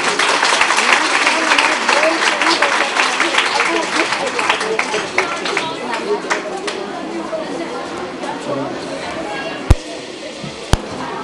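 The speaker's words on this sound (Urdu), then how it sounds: "ان کے لیے زوردار تالیاں" Loud, dense audience applause for prize winners at a school competition in Islamabad, sustained and gradually tapering, with a couple of sharp knocks near the end.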